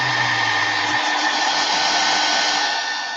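A hair dryer blowing steadily on a wet craft piece, loud and close with a constant whooshing roar for the whole stretch.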